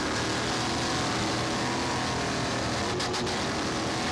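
A diesel-powered Supersport racing powerboat at the 2009 P1 World Championship in San Benedetto del Tronto, Italy, runs at full throttle. Its engine gives a continuous, loud, wind-buffeted roar with no pauses.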